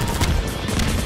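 Rapid gunfire from the video game Half-Life 2, a dense burst of overlapping shots sustained across the short moment with no pause, loud and close.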